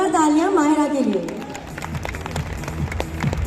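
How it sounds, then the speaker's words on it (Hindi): After a voice speaks briefly, an audience breaks into brisk applause for Mahira, a young fan on stage, with clapping building and continuing close by. "एवरीवन जोरदार तालियां माहिरा के लिए।"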